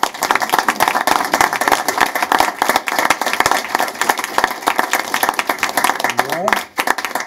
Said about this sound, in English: I'd just like to end with a warm round of applause for everything you've done for us